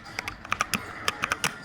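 Someone types on a custom-built 75% mechanical keyboard with six macro keys, producing a close series of crisp, irregular keystroke clacks at a quick pace, with no talking.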